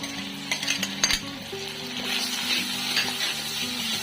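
Ginger garlic paste stirred in hot oil in a pan for butter chicken, a spoon clinking and scraping against the metal over a steady sizzling hiss, close and continuous, with a low hum beneath.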